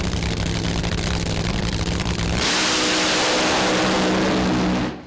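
A funny car on a drag strip during a day-two qualifying run in the 2013 European Funny Car Series, roaring at full throttle as a loud, continuous blast that shifts in tone midway, then cuts off abruptly.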